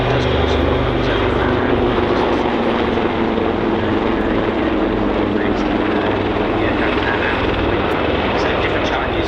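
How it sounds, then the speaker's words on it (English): A Royal Navy Wildcat helicopter flies an airshow display, its rotor and turbine drone steady and fairly loud, a continuous throbbing whir without a break. "As the aircraft closed towards the display line, you can see the Wildcat has a larger tail boom and a horizontal stabilizer"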